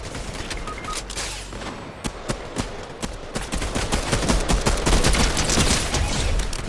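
Dense, rapid gunfire from bots in the video game Fortnite, with many sharp overlapping shots that stay loud and continuous throughout.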